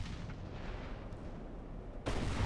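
Naval gunfire in the warship game Ultimate Admiral: Dreadnoughts, with a constant low rumble and then one loud heavy boom near the end that holds on as a deep roar.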